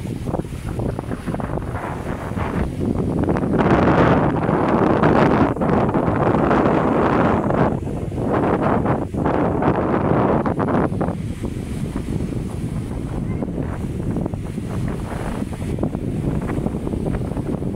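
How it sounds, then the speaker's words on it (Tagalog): Strong wind blowing over Manila Bay, loud continuous buffeting roar against the microphone with gusts rising and falling, faint water sounds underneath. "Ang lakas ng hangin"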